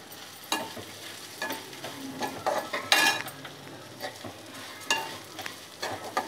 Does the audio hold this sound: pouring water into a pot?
no